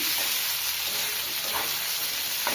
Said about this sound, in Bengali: এই যে ভাইজে নিচ্ছি